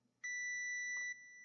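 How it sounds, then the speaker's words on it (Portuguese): A multimeter on continuity setting beeps while probing both terminals of a fuse in a notebook power supply, one steady high-pitched tone lasting close to a second against a quiet room. "Tá dando bip. Se tá dando bip, é porque o fusível tá bom."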